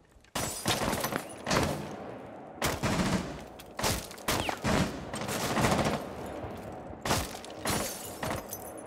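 Gunfire in the tactical shooter Rainbow Six Siege, heard as repeated loud, close bursts of shots with sharp cracks and breaking, shattering impacts, coming in clusters with short gaps between them.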